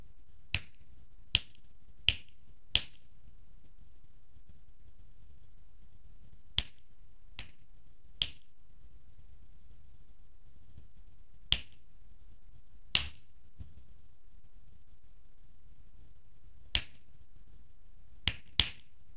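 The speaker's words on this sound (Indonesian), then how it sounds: "Kali ini kita akan mengambil jentikan jari." Sharp, isolated finger snaps recorded one at a time as samples, appearing in small clusters with quiet gaps between them, crisp and close against a faint background hiss.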